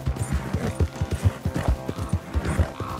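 A horse gallops in the video game Red Dead Redemption 2, its hooves beating a quick, steady rhythm of close thuds with a faint sound of movement behind them.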